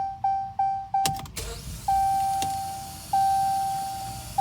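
A 2015 Jeep Latitude fails to start and gives a loud, steady high-pitched electrical whine that cuts out and restarts several times, with a few clunks in between.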